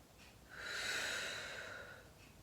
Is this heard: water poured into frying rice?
no